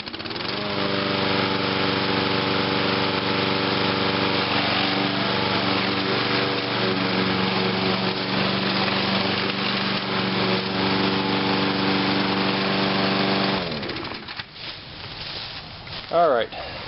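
Small lawn mower engine running after a warm start, a loud steady droning hum for about thirteen seconds before cutting off, followed by quiet handling noises.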